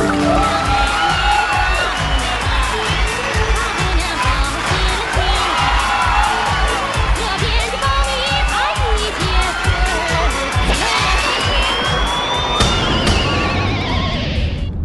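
A Chinese TV dating show's studio audience applauds and cheers loudly and continuously, with dense clapping, whoops and crowd noise filling the whole stretch, ending in a brief swell.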